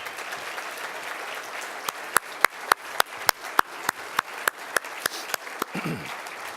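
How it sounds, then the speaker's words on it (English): Audience applause at an AFSA awards ceremony for previous Distinguished Service Award recipients, a soft wash of clapping that turns into a run of sharp, evenly spaced loud claps from one nearby person over the crowd. "Let's give them a round of applause"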